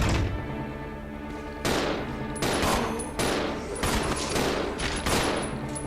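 Repeated loud handgun shots fire at zombies in Resident Evil 0, spaced roughly every half second to a second, each blast booming and echoing over a dense rumbling game backdrop.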